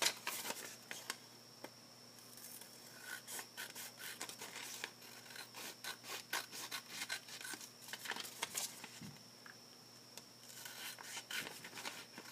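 Scissors cutting paper strips for origami coins, with repeated crisp snips and rubbing paper rustle in an irregular rhythm, close and without talk.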